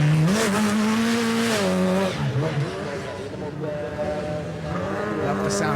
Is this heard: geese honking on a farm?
no